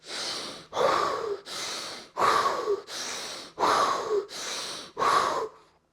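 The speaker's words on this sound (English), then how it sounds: "So this is how I breathe." A person takes forceful, rhythmic breaths, about eight loud, close inhale and exhale cycles in even succession with short pauses between, each rasping and airy.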